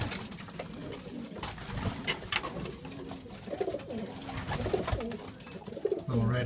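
Racing pigeons coo steadily in a loft, soft throaty calls overlapping with rustling and scattered bird sounds close by, with no talking.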